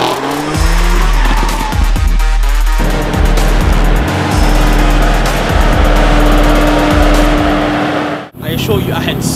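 A BMW M4 doing donuts in South Africa, its engine revving hard and loud in pulsing bursts while the tires squeal continuously, then a sudden cutoff and a brief lift near the end.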